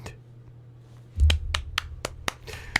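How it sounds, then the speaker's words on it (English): Sparse, polite golf-style applause, roughly eight crisp, evenly spaced single claps close by following a low thump, with no talking over them. "You got some golf claps"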